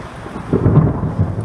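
Thunder follows a lightning strike during a snowstorm at a raceway, a loud, low rumble that swells midway through and then rolls on under steady rain.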